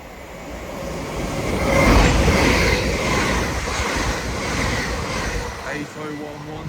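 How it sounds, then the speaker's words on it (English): An LNER Azuma train from Newcastle to London King's Cross runs past Alexandra Palace on the East Coast Main Line, a loud sustained rumble of rolling wagons with wheel noise building and fading over several seconds. "passing through now is an LNER Azuma en route from Newcastle to London King's"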